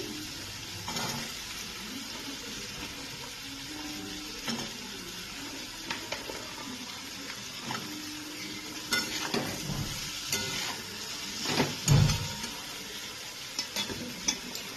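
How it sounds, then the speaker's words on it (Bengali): Cut potatoes and ground spices fry in oil in a pan and are stirred, giving a steady sizzle broken by scraping stir strokes and a sharper knock near the end. "গুঁড়ো মশলাগুলোকে দিয়ে কিছুক্ষণ নাড়ানোর পর এবার আমি এর মধ্যে কেটে রাখা আলু দিয়ে দিচ্ছি"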